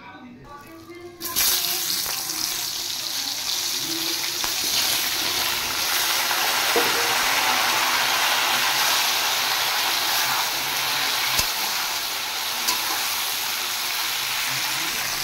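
Chopped ridge gourd, potato, yardlong beans and pointed gourd hit hot oil seasoned with nigella seeds, bursting into a loud, sudden sizzle that holds as a steady, close crackling hiss to the end.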